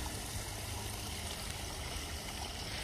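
Continuous rushing and splashing water from a backyard koi pond waterfall, steady and close with no pauses.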